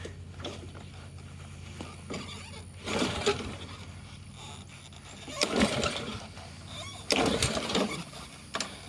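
Troy-Bilt 11A-542Q711 lawn mower with a full tank, choke on and air cleaner off being pull-started, several brief rasping cord pulls that cough the engine without it catching, close by.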